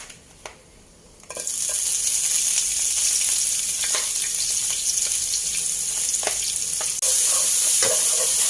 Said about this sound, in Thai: จากนั้นนะคะจะใส่รากผักชีกระเทียมพริกไทยค่ะลงไปผัด